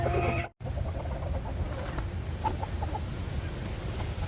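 Backyard hens cluck in soft, scattered bursts at close range, steady low murmuring with occasional sharper clucks after a brief cut near the start.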